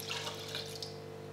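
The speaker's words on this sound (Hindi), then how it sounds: "मैं 5 कप पानी इसमें शामिल कर देता हूँ" Five cups of water pour steadily into a pot of half a kilo of soaked rice being readied for chicken mandi, a soft, continuous splashing hiss heard close but fairly quiet over a faint electrical hum.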